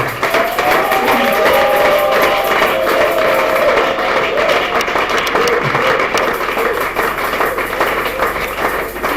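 An audience at a church ordination and book-launch ceremony applauds steadily for several seconds as someone is called up. Dense clapping fills the room while a voice speaks over it.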